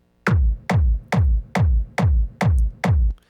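Seven punchy layered techno kick drum hits at a steady tempo, each with a sharp bright click on top of a deep booming thump.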